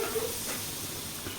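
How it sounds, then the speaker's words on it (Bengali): Butter melting in a hot kadai while making no-onion, no-garlic paneer butter masala gives a steady, soft hiss and sizzle, close and continuous with no talking. "বাটার দিয়ে দিচ্ছি একটু।"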